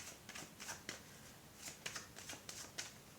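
Tarot cards shuffle and slide lightly as one is laid down over another, producing soft, close papery flicks and taps in an irregular rhythm over a faint background hiss.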